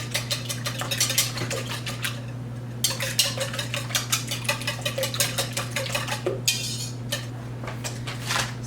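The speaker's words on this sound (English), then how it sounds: "I'm just going to whisk this up until it's all" A whisk beats a breakfast mixture in a bowl with quick, steady, close metallic strokes. A short pause breaks the rhythm before it resumes over a constant low hum, with no talking.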